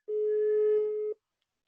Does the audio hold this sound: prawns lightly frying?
no